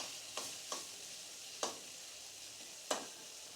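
Papaya pieces fry quietly in a pan with a soft, steady sizzle, broken by four sharp scraping stirs of a spatula; no voices.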